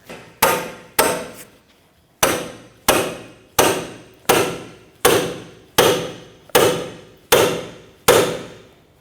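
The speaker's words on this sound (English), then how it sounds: "So now to separate the ball joint from that knuckle, I'm going to use what they call a pickle fork." A pickle fork is hammered to separate a ball joint from the steering knuckle on a 2007-2017 Jeep Patriot 2.4L: ten sharp metallic strikes, close and loud, in a steady rhythm after a short pause, each ringing off briefly.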